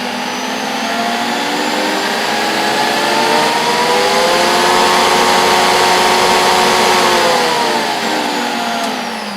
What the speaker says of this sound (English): by any standards that's a fairly quiet vacuum